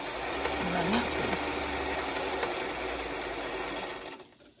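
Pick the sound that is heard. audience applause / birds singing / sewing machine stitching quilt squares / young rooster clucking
sewing machine stitching quilt squares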